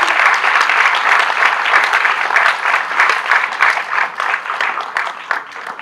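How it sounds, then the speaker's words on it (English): A live audience gives a round of applause after a panel discussion, dense steady clapping from many hands, loud and close, with no voices, fading slightly toward the end. "why don't you guys give a round of applause?"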